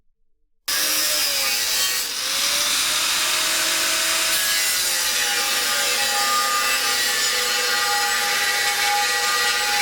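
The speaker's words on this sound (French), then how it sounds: "le chanfrein est exécuté froidement" Continuous rasping, scraping cutting of an aluminium wheel rim as a chamfer is cut cold before welding, loud and close with a gliding whine, starting abruptly after a brief silence.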